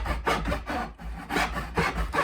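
A hand saw cuts through poplar hardwood in quick, rhythmic back-and-forth rasping strokes, close and fairly soft, with no voices.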